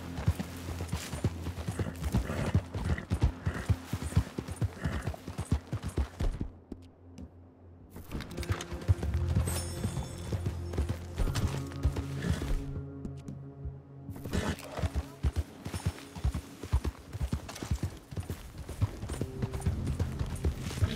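Horse hooves clip-clopping in Red Dead Redemption 2, a steady rhythmic patter of hoofbeats close by that drops out twice briefly, mixed with game ambience.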